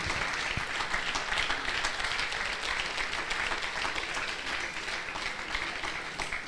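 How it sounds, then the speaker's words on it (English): Audience at a valedictory programme honouring a professor giving a standing ovation after a lecture, a long steady roar of many hands clapping, moderately loud and even, with individual claps faintly distinguishable and no talk. "Can we give a standing ovation to our speaker? A big round of applause for him."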